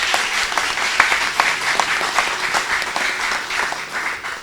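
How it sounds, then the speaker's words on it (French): A school audience applauds a competing lycée team after a match result, steady dense clapping with a few sharper claps standing out, continuous and fairly loud throughout. "Je vous demande d'applaudir cette équipe"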